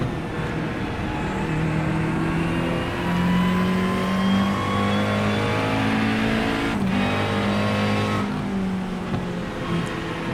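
A GT3 race car in the iRacing sim at Summit Point revs hard and climbs through the gears, its loud, steady engine note rising and shifting without a break and with no talk over it.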